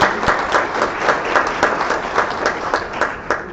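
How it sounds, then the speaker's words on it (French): Mourners at a memorial service applaud a parish priest, steady dense hand clapping from a gathered crowd that holds at an even level throughout. "Alors un applaudissement pour Père Adam,"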